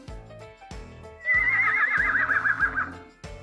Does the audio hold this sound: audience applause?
no